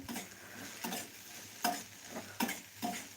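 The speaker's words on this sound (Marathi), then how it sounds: "हे बघा भेंडी फोडणीमध्ये घातली याला हलवून घेते" Okra gets tossed in a hot tempering with a spoon, making five or six distinct scraping sweeps, each a short sizzling swish, separated by quieter low crackle, all fairly soft and close.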